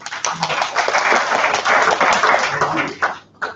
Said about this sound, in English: Can we please give Luke Boojing a round of applause?